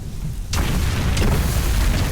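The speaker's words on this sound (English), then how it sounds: "the explosions are a little bit louder" A deep boom erupts halfway through an eerie Souls-like game scene, followed by a loud, sustained rumbling roar and a second muffled blast.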